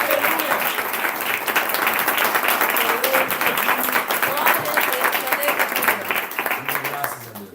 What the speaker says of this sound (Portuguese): Com palmas que alegram o Senhor.